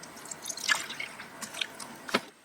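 Water drips and splashes in sparse, irregular plops while a DIY lapidary and jewelry-making machine's reservoir is topped up, the sound close and soft against a quiet background.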